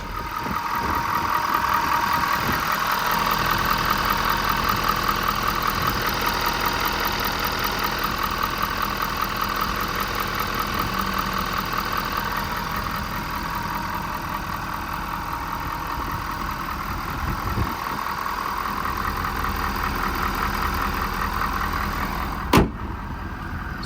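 A 2020 Ford F550 diesel work truck with 170k miles idles steadily, its engine giving a continuous knocking rumble with a faint ticking rhythm, close and even throughout, broken only by a single sharp click near the end.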